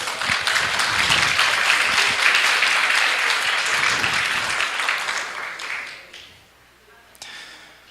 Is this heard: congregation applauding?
yes